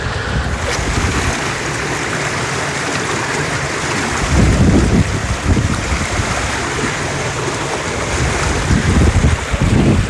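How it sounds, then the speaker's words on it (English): Rushing water pours through the alewife fishway at Mill Brook just below a dam, a steady roaring wash with heavy wind buffeting the microphone. The low gusty surges rise and fall, loud and close throughout. "let me hold the phone down and see if you can hear the rushing water"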